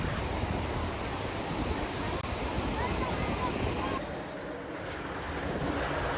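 Sea waves wash onto a beach on the Konkan coast of Ratnagiri, a steady, dense roar of surf with no voices, easing slightly partway through.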